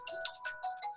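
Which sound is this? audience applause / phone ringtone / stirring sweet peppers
phone ringtone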